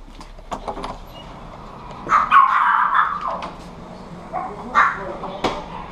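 Small Pomeranian dogs barking outdoors, a few short yappy barks in bursts at moderate distance, with light background noise.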